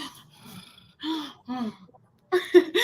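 A voice mimics a dog's snoring with breathy, snuffling snorts and drawn-out nasal grunts, followed by quicker, louder snorting bursts.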